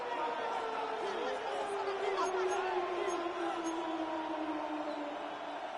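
A football stadium crowd during a 49ers game on third down, a broad roaring murmur with rising whoops and cheers, heard under a commentator's talk.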